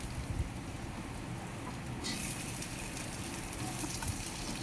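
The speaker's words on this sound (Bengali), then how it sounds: "এখন হচ্ছে আলুটা দিয়ে ভালোভাবে ভেজে নিতে হবে।" Potato pieces sizzle in hot oil in a pan, making a steady, close crackling hiss that continues unbroken throughout.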